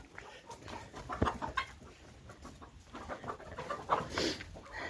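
Chickens clucking softly nearby, a busy mix of murmuring calls and rustling with no talk, fairly quiet throughout.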